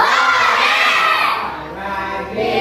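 Children shout a loud cheer together, a dense crowd of young voices during a classroom microteaching action song, sustained for a few seconds with a slight dip midway.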